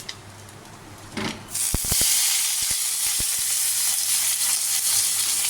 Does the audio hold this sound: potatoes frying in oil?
yes